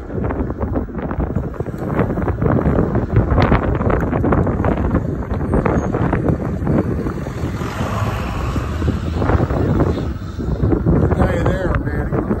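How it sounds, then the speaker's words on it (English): Wind at about 20 mph rushes and buffets against the microphone on a trail ride, a loud, continuous roar with gusty surges throughout. "I can feel the wind blowing at me about 20 miles an hour, right ahead at me"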